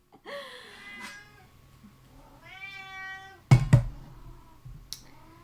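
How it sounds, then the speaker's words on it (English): A pet cat meows close by, two drawn-out tonal calls separated by a pause, followed by a couple of sharp knocking thumps. "I'm gonna feed that meowy kitty some treats"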